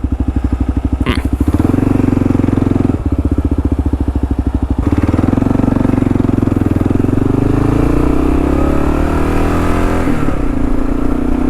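A KLR 650 motorcycle's single-cylinder engine runs close and loud, thumping steadily at idle, then revving up and holding higher RPM with a rising, rough drone.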